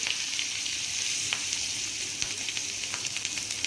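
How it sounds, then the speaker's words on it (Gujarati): Green chillies hit hot tempering oil already crackling with popped mustard seeds and cumin for green gram dhokla, giving a loud, steady hiss with faint spitting pops throughout and no voices. "રાઈ જીરું પણ ફૂટી ગયું છે તેમાં બેથી ત્રણ મેં લીલી મરચી લીધી છે તે ઉમેરી દઈશું"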